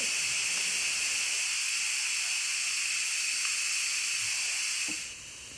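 A mini electric pressure cooker vents a steady, loud hiss of steam for about five seconds, the rush then dropping off abruptly as the pressure gives out.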